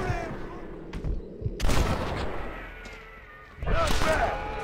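Gunshots ring out in the Western video game Red Dead Redemption, two loud sharp cracks with reverberant tails standing out over game ambience and background sound, with a voice talking in between.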